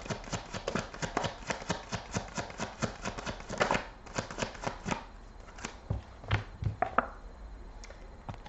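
Tarot cards are shuffled in quick repeated riffles and taps, close and crisp, the rhythm slowing and turning irregular toward the end.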